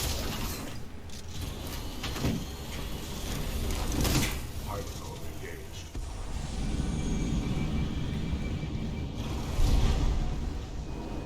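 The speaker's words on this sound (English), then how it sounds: "There is construction going on outside my door." Construction work just outside a door produces intermittent clanks, scrapes and knocks over a steady background rumble, with a few sharper bangs standing out.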